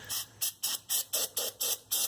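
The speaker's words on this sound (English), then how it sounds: "I'm going to spray this down." Aerosol cleaner sprayed onto the carburetor of an 11 hp Briggs and Stratton engine on a John Deere R92 mower, eight short, sharp hissing bursts in a quick, even rhythm, close and alone.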